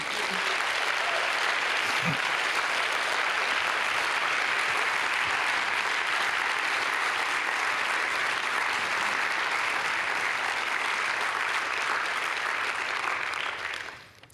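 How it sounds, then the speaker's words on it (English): Sustained applause from a large audience at a humanitarian congress in Berlin's Urania venue, honouring the volunteers; steady dense clapping for about fourteen seconds before fading out at the end. "So I would like to just applaud, especially the volunteers now."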